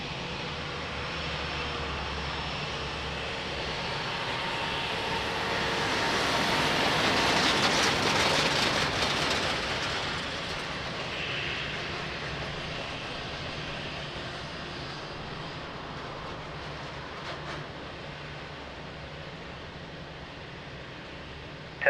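A heavy airliner takes off at Lisbon Airport, a loud sustained engine roar that swells to a peak midway and then slowly fades while staying strong throughout.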